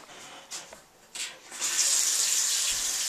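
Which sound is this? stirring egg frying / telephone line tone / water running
water running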